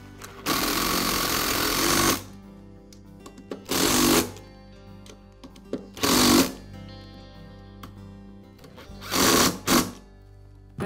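Short bursts of a small power tool, likely a screwdriver or drill, fastening a new starter onto an Echo leaf blower: four separate whirring runs of one to two seconds each, close and loud, with quiet gaps between them.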